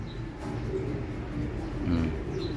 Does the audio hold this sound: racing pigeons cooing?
yes